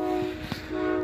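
Almaty branded passenger train standing at a station in Turkistan, giving a steady tonal horn or whistle with a brief dip in the middle, close and fairly loud.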